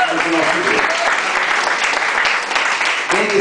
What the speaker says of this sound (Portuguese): ocupe as mãos para aplaudir o Senhor